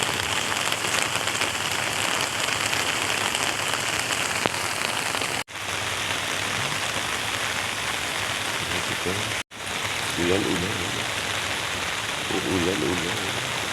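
Heavy rain pours steadily outside a house, a dense, loud roar of water on surfaces that holds for the whole stretch, with two brief dropouts and a voice speaking briefly near the end.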